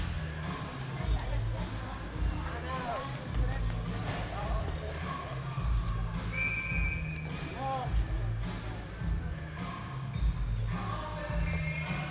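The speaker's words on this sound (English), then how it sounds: "Referees didn't like something there, blew the whistle, so another face-off" A referee's whistle at an 18U ice hockey game between the Wild and the Greenville Road Warriors gives one brief, clear tone partway through, set against steady rink noise, skate scrapes and crowd murmur.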